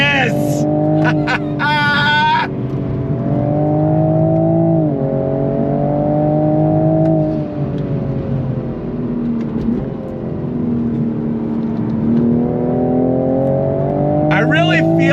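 A 2026 Toyota Supra Mk5 Final Edition engine is pushed hard on track, its loud, steady drone rising and falling through gear changes and throttle shifts, with brief tire noise and short bursts of speech near the start and end.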